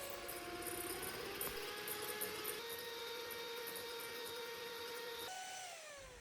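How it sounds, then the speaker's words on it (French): Egg whites with a pinch of salt being beaten with an electric whisk for a yogurt and apple cake, a steady whirring drone that holds even and fairly loud before its pitch briefly drops near the end. "Ensuite, je vais fouetter environ 5 minutes"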